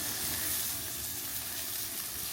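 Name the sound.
porterhouse steak searing on the barbecue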